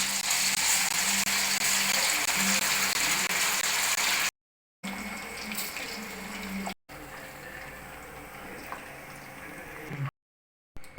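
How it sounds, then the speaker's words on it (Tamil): Marinated chicken pieces sizzle and bubble in hot oil for a Chinese-style pepper chicken, a dense steady frying hiss broken by a few short gaps. "எண்ணெய் சூடு சிக்கன் போட்டுக்கலாம்"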